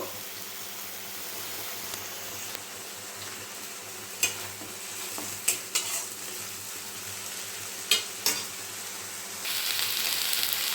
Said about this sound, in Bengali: বেটে রাখা পেঁয়াজ রসুন আদা কাঁচা লঙ্কা জিরে খুব ভালোভাবে আমি এগুলোকে ভেজে নেব